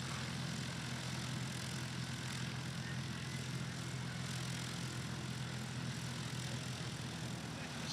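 A STOL airplane's propeller engine drones steadily as it taxis slowly at the 2025 Music City STOL Competition, a continuous, moderately loud rumble with a constant pitch and no breaks.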